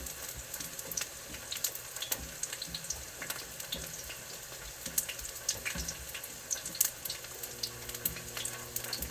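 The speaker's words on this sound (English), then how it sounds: "These will just fit in there perfect to get them seared." Chicken pieces sear in a hot pan, a busy crackling sizzle with frequent sharp pops and spits, close and continuous throughout.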